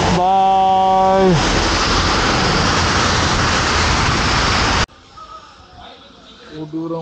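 Steady loud rain noise while riding a motorcycle from Trichy toward Dindigul on a winter ride to Munnar, a broadband wash that cuts off abruptly to a quieter background with faint voices.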